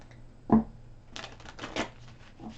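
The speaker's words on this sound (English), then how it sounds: "Let's give that a couple more shuffles" A single soft tap is followed by a quick riffle of tarot cards being shuffled, a brisk flurry of papery flicks close by.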